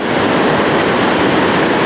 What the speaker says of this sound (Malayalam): ഷട്ടറിൽ നിന്നും വെള്ളം ഇങ്ങനെ വീഴുന്നതാണ്